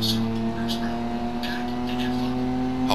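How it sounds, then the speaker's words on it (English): A race car engine in a racing video game drones at a sustained, flat pitch as it loses power, never climbing, with a faint swell near the end. "This car losing power."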